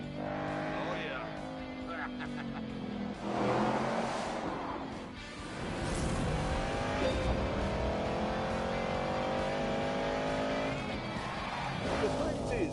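A muscle car from The Grand Tour video game revs and accelerates with tyre squeal and skidding, a sustained engine roar through most of the stretch while someone talks over it.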